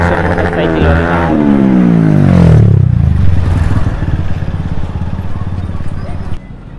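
Motorcycle engines and traffic in a jammed street with a truck parked along one side during a crowded festival period, a loud engine sweeping down in pitch near the start, then steady close rumble and clatter.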